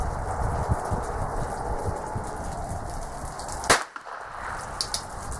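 A single sharp shot from a North American Arms Mini Mag revolver cracks once, loud and abrupt, against a steady outdoor hiss, with no talking.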